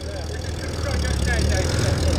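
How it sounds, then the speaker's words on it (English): A classic MGC sports car's 3-litre C-Series engine idles at an outdoor car meet, a steady low rumble close by with faint background noise. "You can hear the 3-litre C-Series engine rumbling away."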